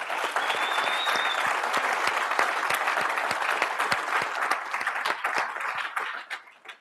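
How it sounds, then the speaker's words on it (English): An audience applauds at a tech keynote for a product announcement, with sustained, dense clapping and sharp individual claps standing out, steady for about six seconds before tapering off. "let's get an applause for everyone who was up here today"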